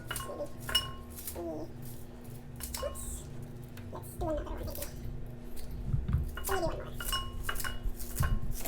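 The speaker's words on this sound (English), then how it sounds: "So what I do is I use scissors to cut them up." Scissors snip through lemongrass stalks for chicken inasal, the pieces dropping into a bowl with repeated short crisp cuts and light clinks, set against a steady low hum.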